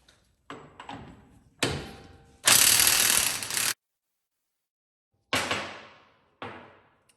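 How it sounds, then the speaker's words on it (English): Mechanical ratcheting and metallic turning as a 36 mm CV axle nut is spun off a 1988–98 Chevy K1500 pickup, heard in several separate bursts, one long loud stretch in the middle, with silent gaps between them. "So there is a 36 millimeter nut here at the end. So we'll go ahead and spin that off."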